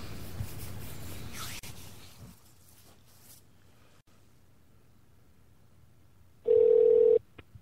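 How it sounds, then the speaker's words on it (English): A telephone call to a wellness centre: a faint line hiss fades into near silence, then a single loud ring tone sounds for under a second, followed by a small click. "we're phoning the wellness centre here"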